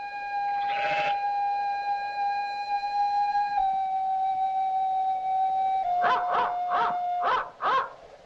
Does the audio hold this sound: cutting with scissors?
no